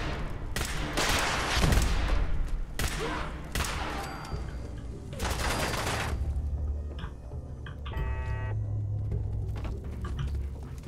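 Missiles launch and explode in Fallout 4, loud repeated rushing blasts in quick succession followed by rumbling gunfire and mechanical game sounds.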